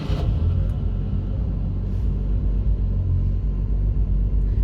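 A Jaguar E-Type Reborn catches on the starter button and settles into a loud, steady low rumble of its idling engine, close by and continuous with no talk over it.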